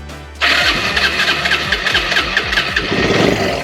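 An ATV engine fires up after priming the carb and pulling the choke, catching quickly after a short crank and settling into a loud, close, chugging idle with a rhythmic pulsing beat.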